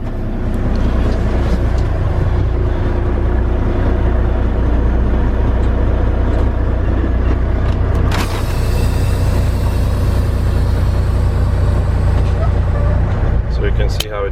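A 2019 Volvo VNL 760 truck with 444k miles drives with a steady, loud low engine drone and road rumble. A brief burst of broadband noise cuts in near the middle, and a voice talks over it.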